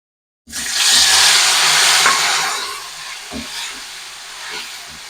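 Chopped tomato drops into hot oil with bay leaf in a frying pan, bursting into a loud, bright sizzle that slowly settles into a softer hiss with a few stirring knocks.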